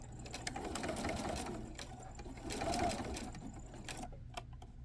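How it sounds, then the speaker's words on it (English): A sewing machine stitches bias tape close to the edge of a garment neckline, a steady rapid mechanical whirring and needle chatter that swells twice and eases between, close and alone, with no talking. "So I'll go to the sewing machine and I will be stitching at a 1/16 of an inch from the edge, number 2 stitch."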